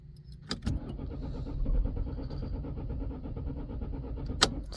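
A diesel engine cranking on a cold winter start, one cylinder firing once: a steady starter drone runs for several seconds, bracketed by two sharp knocks, one near the start and one near the end.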